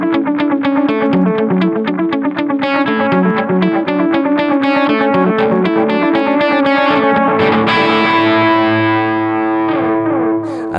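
A crunchy distorted electric guitar riff played through a Dark Times delay pedal, with loud chugging rhythmic chords and repeating echoes trailing off near the end, with no voice over it.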